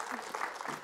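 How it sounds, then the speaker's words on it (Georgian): Studio audience applause on a television quiz show as a contestant is led to a chair: a steady, dense patter of clapping hands that holds throughout. "აპლოდისმენტებით მივაცილოთ სავარძლამდე."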